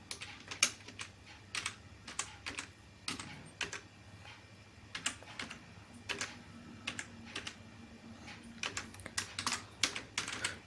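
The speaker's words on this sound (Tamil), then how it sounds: "டேட்டாஸை எவ்வளோ வேணுமோ அவ்வளோ நீங்கள் டைப் பண்ணிட்டே போயிடலாம்" Clicky keystrokes on a computer keyboard as data is typed into an Access table, coming in quick irregular bursts with short pauses, close and fairly quiet, with no talking.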